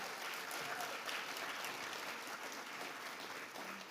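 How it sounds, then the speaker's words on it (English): A symposium audience at a civil rights event gives a round of applause, a steady wash of many hands clapping at a distance that stays even and fairly quiet for the whole stretch. "So give yourselves a round of applause for that."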